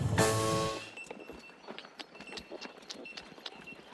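Horse hooves clip-clop in light, irregular taps at a moderate distance after a brief loud harmonic sound at the start, with faint background noise.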